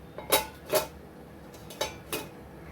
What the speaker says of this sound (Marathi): आता हे मी छान झाकून ठेवते दहा मिनिटं